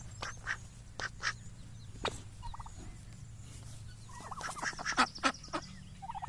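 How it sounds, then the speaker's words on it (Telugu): Ducks calling, a female giving loud quacks and a male making softer raspy notes, in short repeated bursts that cluster and grow busier toward the end, close by over a low steady background hum. "అది ఆడబాతు పెద్ద సౌండ్ వస్తుంది మగబాతు ఏంటంటే చిన్న సౌండ్ కుర్రు కుర్రు అని అరిపి దీన్ని"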